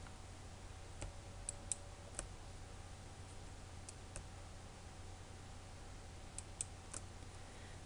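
Mouse clicks in Flash animation software, a few sharp, quiet clicks scattered over a steady low hum, with no talking.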